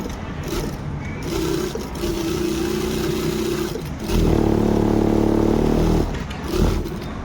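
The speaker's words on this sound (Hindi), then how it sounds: "ये देखिए सिलाई लगेगी।" A sewing machine stitches the collar of a gents' shirt, a steady close motor whirr with a rhythmic mechanical hum that grows louder and faster in the middle stretch, then slows again.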